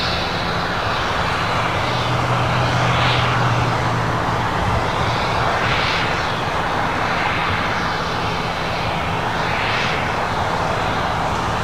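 A United Boeing 777-200ER airliner at LAX, its jet engines producing a loud, continuous roar with slow swelling whines, joined by a low rumble of nearby traffic.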